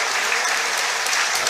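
Stadium crowd at a Finn Harps versus Waterford football match applauding steadily in a minute's tribute, a dense, continuous wash of clapping from many hands with no break.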